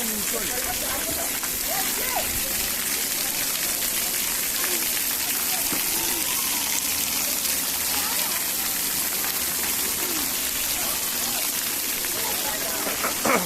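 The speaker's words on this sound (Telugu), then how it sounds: "ఇక్కడ ఆర్టిఫిషియల్ వాటర్ వాటర్ ఫాల్ కూడా ఉంది" Steady rushing splash of an artificial waterfall at Narasapuram fills the scene continuously, with faint voices underneath.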